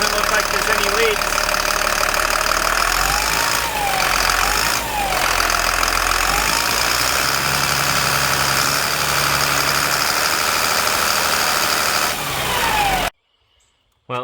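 A loud diesel engine of an M1078 LMTV military truck idles close by with a steady rumbling knock, while someone talks over it; the engine cuts off abruptly near the end.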